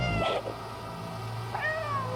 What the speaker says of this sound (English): You think he's gonna respond to a nice little meow?